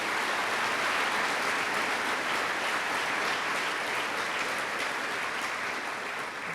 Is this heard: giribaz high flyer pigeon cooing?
no